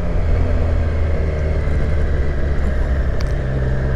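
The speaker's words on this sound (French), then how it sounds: "j'aime bien entendre le moteur du 3 cylindres" A three-cylinder car engine runs with a steady, low, throaty rumble, loud and close, with no voices over it.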